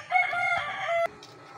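A fighting cock, a Thompson White or Butcher White gamecock, lets out one loud, close crow with held harmonic tones that cuts off sharply, followed by quieter background noise.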